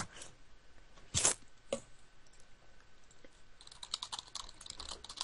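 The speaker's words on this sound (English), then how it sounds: "Typing for days." Rapid clicking of keys on a computer keyboard, a loud burst of strikes followed by quieter scattered taps and then a fast run of steady typing, close and alone.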